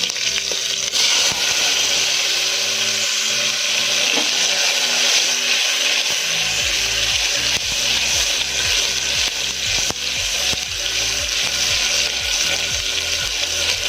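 Cumin and chopped garlic fry in hot oil for a South Indian rasam, a loud, dense, continuous sizzle close by, with the clatter of stirring breaking through now and then.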